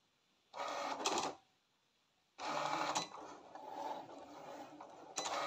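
Cricut cutting machine working quietly, short mechanical bursts of whirring and clicking carriage movement separated by pauses, close and soft.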